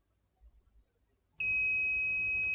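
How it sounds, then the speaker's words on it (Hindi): An active buzzer wired to an Arduino pin sounds a sudden continuous high-pitched electronic tone that starts abruptly after a quiet moment and holds steady and loud to the end. "बजर वाला सर्किट चेक करने के लिए।"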